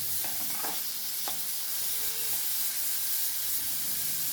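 Mixed vegetables for a winter soup brown in a pot with a continuous close sizzle and hiss, joined by a few short stirring scrapes and clinks near the start, with no talking.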